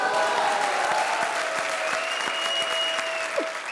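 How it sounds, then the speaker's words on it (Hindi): A studio audience at a comedy show with a poetry-recital theme claps loudly and steadily. A faint musical tone sustains underneath before the applause tapers slightly. "ठोको ताली।"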